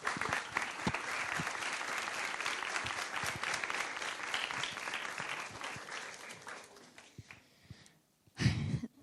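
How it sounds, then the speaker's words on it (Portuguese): Audience applause at the Belém Palace in Lisbon rings out dense and sustained for several seconds, fades toward silence, then a short loud thump or rustle closes it. "Então, uma salva de palmas para a Bárbara"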